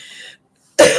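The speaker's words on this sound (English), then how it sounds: "Keep getting this cough." One sharp, loud cough bursts out close by after a brief quiet, following a faint hiss.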